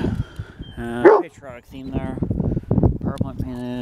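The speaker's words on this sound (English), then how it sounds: "Sorry about the dog wolfing there. It's pretty dang loud." A dog barks loudly outdoors in a yard where a limo and posts have been painted, giving a sharp burst of a few barks over someone talking nearby.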